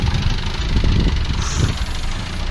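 A 300HP Ford Transit engine running on a MaxxECU mini ECU, a steady low rumbling idle that holds continuously and fairly loud, with a slight uneven pulse through the whole stretch and no talk over it.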